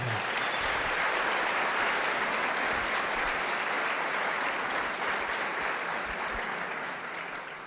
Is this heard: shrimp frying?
no